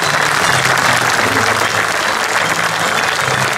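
Audience applause at a cantoria folk-singing show, dense steady clapping filling the whole stretch with no voices over it.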